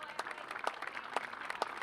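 Scattered applause at a ceremony honouring a college baseball coach's family, heard as a handful of soft, slightly distant claps spaced irregularly over a low room hum.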